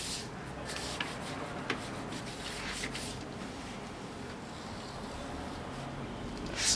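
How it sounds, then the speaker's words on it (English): Rubbing compound applied to car paint by hand gives a soft, continuous rubbing and scrubbing texture close by, with a few faint knocks and no voices. "so just gonna shake our rubbing compound and lay it on here"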